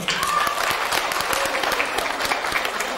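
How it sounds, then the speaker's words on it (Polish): An audience at a wedding-band competition awards ceremony breaks into steady, dense applause, many hands clapping together at a constant level for the full few seconds with no voices over it. "Gorące brawa!"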